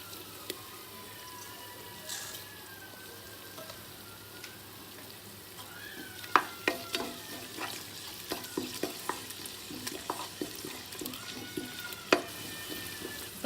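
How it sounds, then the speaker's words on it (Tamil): Ginger garlic paste and masala powder sautéing in a pan, with a steady low sizzle and a series of scraping, stirring clicks from a spoon growing busier in the second half, close by and with no talk. "இப்போ இஞ்சி பூண்டு பேஸ்ட்டையுமே அந்த மசாலா பவுடரையும் போட்டு நல்லா பச்சை வாசம் போகிற வரைக்கும் வதக்கிக்கோங்க"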